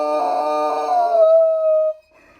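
A Great Dane howls in a single drawn-out, tuneful note that bends and fades over about two seconds, close and clear, followed by quiet.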